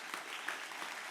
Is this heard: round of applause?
yes